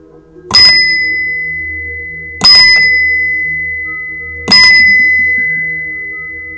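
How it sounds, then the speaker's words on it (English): A hand bell struck three times at steady intervals of about two seconds, each ring loud and bright with a long, ringing decay that fades into the next strike. "I'm going to ring this bell a couple times."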